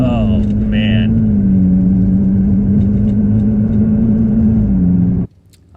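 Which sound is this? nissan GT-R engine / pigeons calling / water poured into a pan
nissan GT-R engine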